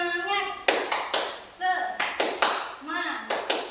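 A class of schoolchildren claps together in a quick rhythmic pattern led by their teacher, bursts of claps alternating with chanted voices, repeating several times in a lively call-and-response.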